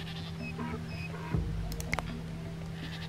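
Goats in the video game Dawn of Man bleating a few short times over a soft steady hum, faint and fairly distant.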